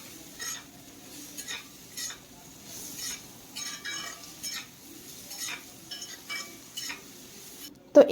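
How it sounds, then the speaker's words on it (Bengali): Bitter gourd (karela) frying in a pan over medium flame, heard as a soft low sizzle broken by repeated short scrapes and clinks of a spatula stirring, ending in a sharper clatter. "আর এখন এই উচ্ছে বা করলাটাকে ভালো করে ভেজে নিতে হবে।"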